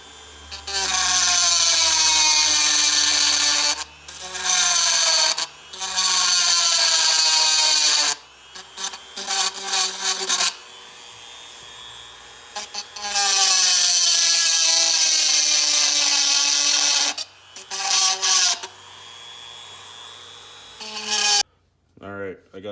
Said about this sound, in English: So I'm actually going to shave those off as well.